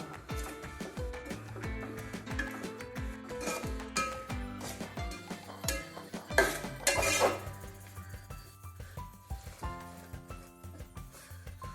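Grated coconut being stirred in ghee in a pan for a puffed rice sweet, with repeated metallic spoon scrapes and clinks against the pan in an irregular rhythm, fairly close.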